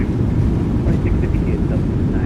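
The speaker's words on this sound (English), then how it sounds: "Reversers are out. Decelerating." Thrust reversers roar on a PMDG 737-800 landing in a flight simulator, a loud, dense low rumble holding steady with a faint whine above it.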